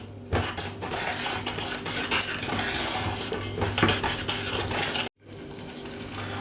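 A spoon scrapes and clinks steadily against a metal saucepan while sugar and water are stirred together for caramel, close and continuous, ending in a brief sudden silence before faint handling noise resumes.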